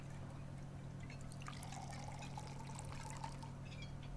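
Water poured into a glass at a family dinner table in Beyond Two Souls, a faint steady trickling stream lasting a couple of seconds over a low room hum.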